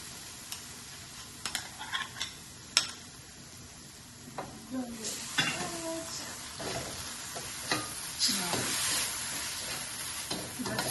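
Tomatoes sizzling in a skillet with potatoes and cauliflower for aloo gobhi, with a steady frying hiss and scattered stirring clicks and scrapes at close range, and some faint talk in the background.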